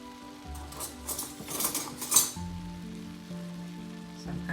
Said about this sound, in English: So just going to add the sauce and then mix everything together.